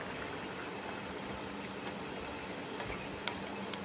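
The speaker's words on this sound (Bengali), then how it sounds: "তারপরে ডাল কড়াইয়ে ছেড়ে দিচ্ছি" Chana dal poured into a hot wok with mustard oil and dried red chillies, giving a steady close sizzle and faint ticking crackle throughout, with no talking.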